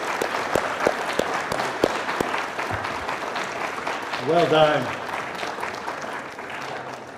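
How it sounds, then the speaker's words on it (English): Audience applause for award recipients at a student awards ceremony, steady clapping throughout under a brief spoken remark, swelling louder near the middle before tapering. "Let's give them all a round of applause."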